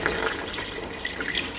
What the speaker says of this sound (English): So now I'm going to be adding some water